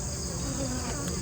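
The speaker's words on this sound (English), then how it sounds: "Notice how every single frame I'm taking out of here is absolutely coated with bees." Honey bees buzzing around an open beehive as frames coated with bees are lifted out, a dense continuous drone that is close and steady throughout.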